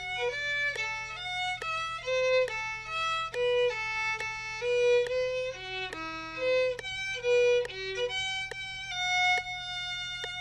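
Violin playing the last four measures before a rehearsal mark in an arrangement, a sequence of clear sustained bowed notes with distinct pitch changes, played alone over a low steady hum.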